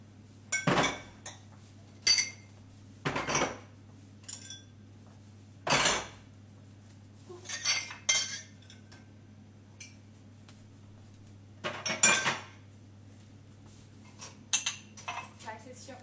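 Glasses and cutlery clink and clatter in separate bursts as dishwashers are emptied at speed, sharp close knocks and chinks spaced every second or two over a low steady hum, with little or no talk.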